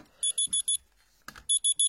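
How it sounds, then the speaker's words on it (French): An alarm clock beeps in two runs of four rapid, evenly spaced electronic tones, clear and close, with a brief rustle between the runs and no talk. "j'avais mis un réveil, je sais pas pourquoi"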